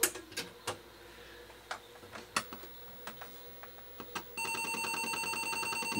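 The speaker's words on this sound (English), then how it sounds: "you can see the pitch of the sector loading even sounds a little bit lower, like a real 1050" An Atari 1050 disk drive fitted with a Happy upgrade and running the stock 1050 ROM loads sectors, giving a run of irregular sharp mechanical clicks. These give way to a steady, continuous tonal whine, all fairly quiet with no talking.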